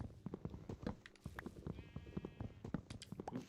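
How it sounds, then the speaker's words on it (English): Sheep in Minecraft bleat in short wavering calls amid soft footsteps and rustling, fairly faint and close together over a few seconds. "There's another sheep."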